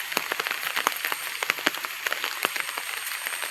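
Steady rain falls on a concrete walkway in the morning, a dense patter of close drops with sharper individual splashes scattered throughout, no voices over it.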